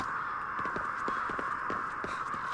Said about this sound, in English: I hear you damn crows.